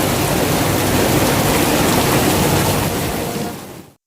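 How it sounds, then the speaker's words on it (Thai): Heavy rain pours down in Ratchaburi, Thailand, as a dense, loud, unbroken roar that tails off at the very end. "ฝนตกหนักครับ"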